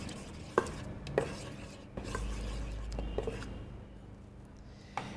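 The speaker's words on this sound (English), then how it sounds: "I'm going to give it a little bit of a stir" Barbecue sauce of tomato and Worcester sauce stirred in a pan, giving a few soft knocks and scraping strokes spaced about a second apart over low background hum, close and modest in level.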